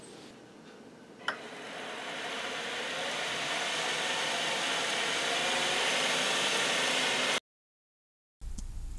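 A milling attachment on a lathe machines a small scrap metal piece, a steady high whirring hiss with a faint motor hum that swells gradually, broken by a sharp click early and a cut near the end.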